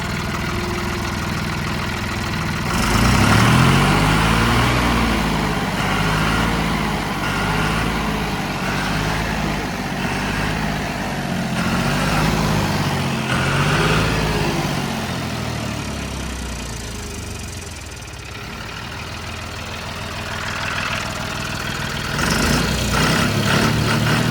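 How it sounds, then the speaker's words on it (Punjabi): A John Deere 5055 tractor engine with an inline pump idles steadily, low and rumbling throughout, with a slight swell near the start and again at the end. "ਸਟਾਰਟ ਕਰਿਓ ਟਰੈਕਟਰ ਨੂੰ ਆ ਟਰੈਕਟਰ ਹੀ ਆਪਣਾ"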